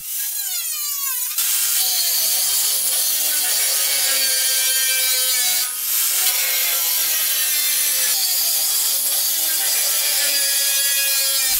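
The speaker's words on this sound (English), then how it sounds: "used my angle grinder to cut the shape out" An angle grinder cuts 3mm sheet metal into a wing shape for a metal grasshopper sculpture, giving a loud, continuous, high-pitched whine that wavers slightly in pitch as the cut goes on.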